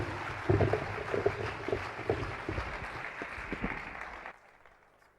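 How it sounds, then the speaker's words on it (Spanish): Sustained audience applause at a lecture hall conference, a dense steady patter of many hands that holds at moderate level, then drops off abruptly near the end. "Vamos a darle un aplauso."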